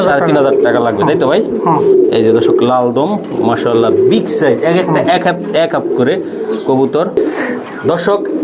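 Kaldom pigeons coo at a large pigeon farm with hundreds of pairs, a dense, continuous layer of overlapping coos close by, with someone talking over them.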